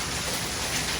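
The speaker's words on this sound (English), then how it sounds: "That's like marble size hail." Marble-size hail falling outdoors in summer, a dense continuous clatter and hiss on surfaces, loud and steady throughout.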